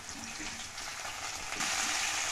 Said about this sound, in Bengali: গ্যাসটা কমিয়ে ফুলকপি টুকরোগুলো দিয়ে দিচ্ছি